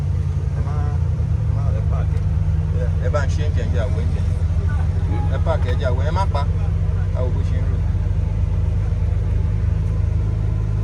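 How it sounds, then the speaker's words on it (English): Engine of a Suzuki Every mini van idling steadily just after starting, a constant low rumble heard close by with people talking over it. "Engine has been started, as you can see."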